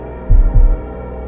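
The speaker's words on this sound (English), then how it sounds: "heart pounding." Two heavy, deep thumps of a pounding heartbeat sound effect in quick succession over a low steady hum, close and loud.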